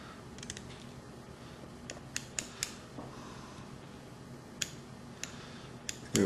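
Small scissors trim thread on a fly held in a fly-tying vise, giving a handful of crisp, isolated snips spaced irregularly over quiet background, each one brief and close.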